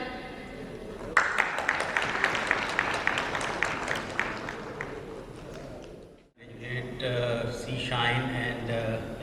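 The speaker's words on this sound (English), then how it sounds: "A big round of applause for Mr. Ahmed." At a corporate event, a crowd breaks into a round of applause that starts suddenly and fades out after about five seconds, followed by someone speaking.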